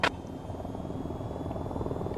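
Helicopter flying in the flight simulation game VTOL VR, a steady low rotor drone and engine rumble, continuous and moderately loud, with a brief sharp click at the start.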